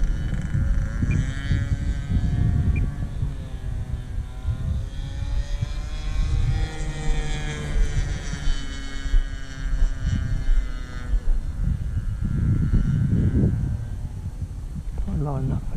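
A small propeller airplane lines up for landing, its steady droning engine hum continuous and fairly loud throughout, with people talking over it.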